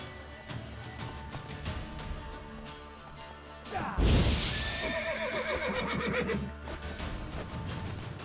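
A horse in The Witcher 3 gives a loud, drawn-out whinny over steady game music and ambience, with a heavy thud at its onset.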